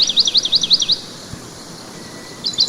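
Small birds chirping in a cartoon pond scene, a quick run of high repeated tweets at the start, then quiet, then another short burst at the end, bright and close.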